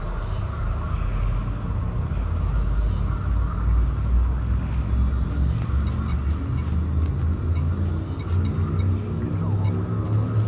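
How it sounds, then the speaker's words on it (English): Frame Shift Drive charging aboard a ship in the video game Elite Dangerous: a dense, continuous low rumble with a steady hum, holding at an even loudness for about ten seconds. "Frameshift drive charging."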